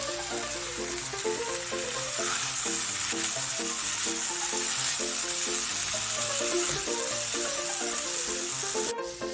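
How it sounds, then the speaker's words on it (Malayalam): Spinach sautés in sunflower oil in a pan, giving a continuous loud sizzle with rhythmic scraping and stirring strokes, close by and without talk, ending in a brief sharp knock. "ചീര ഇട്ടതിന് ശേഷം അതൊന്ന് നന്നായിട്ട് വഴറ്റിയെടുക്കുക."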